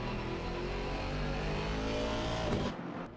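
Race cars in Assetto Corsa Competizione at Brands Hatch, engines roaring loud and steady as they pass, the din cutting off abruptly near the end.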